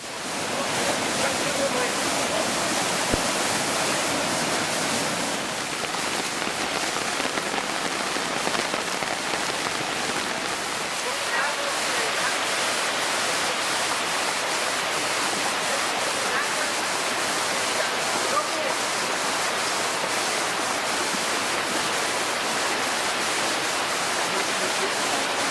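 Floodwater surges through a German town in a loud, continuous rushing roar that is dense and unbroken for the whole stretch, with no clear voices above it.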